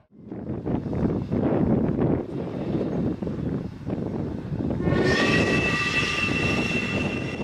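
An electric train sparking from iced overhead contact wires: a loud, rough rumble with crackling bursts, then a rising steady electric whine joins in as it passes close by.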